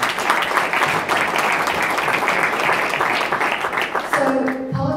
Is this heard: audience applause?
yes